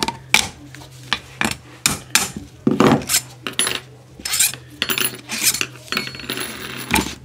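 Metal parts of a small shaded-pole motor being pulled apart after three bolts are undone, giving a series of sharp close clinks and knocks at irregular intervals with short pauses between.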